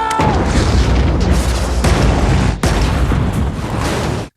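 Film explosions blocking a road during a car chase: a continuous loud roar of booms and blasts for about four seconds, with a sharp break midway before the rumbling resumes and cuts off.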